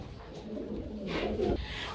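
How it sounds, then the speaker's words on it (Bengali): Racing pigeons at a breeding farm give soft, low cooing calls, close and fairly quiet, in a brief burst with a louder coo near the end. "আমরা এখানে দেখতে পাচ্ছি খুব সুন্দর আরেক জোড়া কবুতর"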